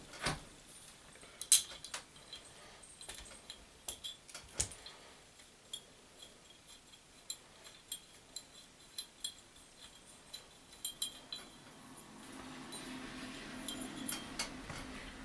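Small bolts on a sample tube mount are worked loose with a 5/32 Allen wrench, giving quiet, scattered metallic ticks and clinks at irregular intervals, close and soft against a faint room background.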